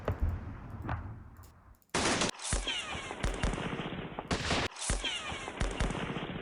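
Gunfire from a West Front strategy war game, with loud broadband bursts of shots and rapid machine-gun fire in several blocks, separated by short gaps.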